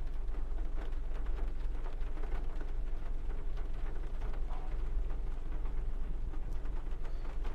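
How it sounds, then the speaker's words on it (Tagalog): Heavy rain pours steadily with low rumbling thunder beneath it, a dense, continuous roar close by with no voices. "Umulan at kumukulog-kulog pa."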